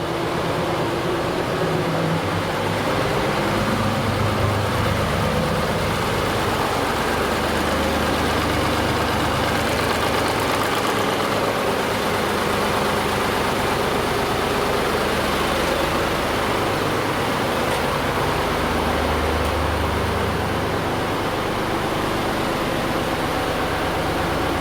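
Boat engines idle in a steady, loud, low diesel drone with an even rumble that never changes pace, and no one speaks over it.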